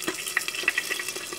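Exotic breakfast sausages frying in a pan outdoors by a yurt, giving a steady close sizzle with scattered crackling pops and no talking.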